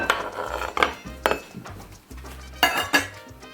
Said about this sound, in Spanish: Ahora vamos a agregar el tomate en el recipiente donde vamos a estar preparando la ensalada